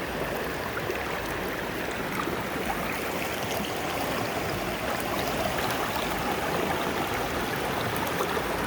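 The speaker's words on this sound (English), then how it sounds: "So I came out here to the creek this morning." Outdoor creek water flowing steadily, a continuous broadband rushing and trickling close by, even in level throughout with no talking.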